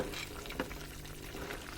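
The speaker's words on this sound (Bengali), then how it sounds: "এখন আমি এটাকে ভালোভাবে নেড়ে চেড়ে দিচ্ছি।" Mutton curry being stirred in a pan, a short stretch of steady frying sizzle with one soft utensil scrape, close and fairly quiet.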